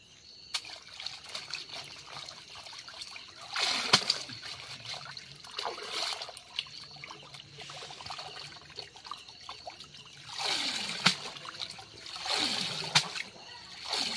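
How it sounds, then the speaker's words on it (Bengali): Cut pangas fish washed by hand in pond water, with repeated close splashes and trickling drips in uneven bursts, pauses of quieter dribbling between, and no talking. "মাছটা কাটা হয়ে গেছে, এবার পুকুরে ধুতে যেতে হবে।"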